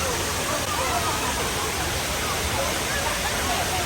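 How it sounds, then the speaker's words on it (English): Rushing water pours steadily at a waterfall visited on a weekend trip in Houston, a loud, dense, unbroken roar that fills the whole moment. "It's water going everywhere."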